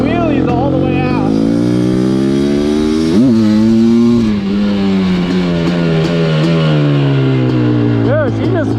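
A Suzuki LT500R Quadzilla quad's two-stroke engine screams loudly at high revs as it wheelies away, the pitch rising then slowly dropping as it pulls into the distance, with excited voices talking over it.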